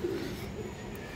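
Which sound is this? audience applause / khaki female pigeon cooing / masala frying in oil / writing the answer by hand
khaki female pigeon cooing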